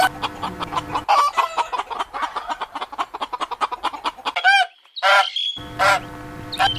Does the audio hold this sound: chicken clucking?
yes